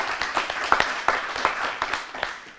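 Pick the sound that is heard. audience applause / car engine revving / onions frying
audience applause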